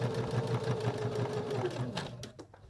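A sewing machine stitches around the edge of a small DIY sewing kit, its fast, even whir running close and steady before stopping near the end.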